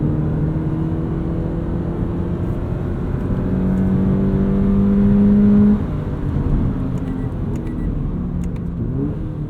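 A 2017 Toyota 86 with automatic transmission in sport mode accelerates on the Autobahn Country Club race track, its engine droning loud and close with rising tones and a sustained strained pitch mid-run.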